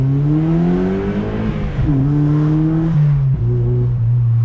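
A car fitted with a Track Dog Racing intake revs hard, its engine droning loud and close with steady harmonic tones that shift pitch as the throttle changes, heard alone without talk.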